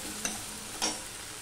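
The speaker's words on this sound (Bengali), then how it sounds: "টমেটো থেকে জল বেরিয়ে আছে, সেটাতেই মশলাটা আমি কষিয়ে নিচ্ছি।" A spice masala is stirred and fried in the juice of tomatoes in a pan, for a ladies finger (okra) dish. Two short, quiet scraping sizzles come about half a second apart over a faint, low background.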